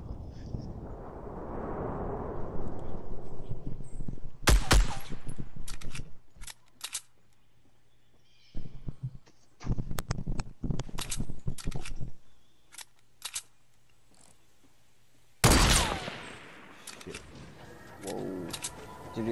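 Gunshots in the battle-royale video game Fortnite, a few sharp bursts and scattered single shots separated by quiet gaps, with a louder blast near the end and faint ambient game sound.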